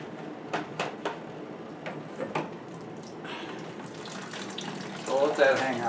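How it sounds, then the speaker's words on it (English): Water drains and trickles out of cut copper pipes during a bathroom remodel, a steady splashing flow with a few drips, and it grows a little louder near the end. "Gotta get all the water out of the pipes if you're gonna sweat."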